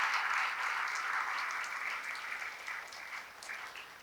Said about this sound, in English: Big round of applause for this great achievement.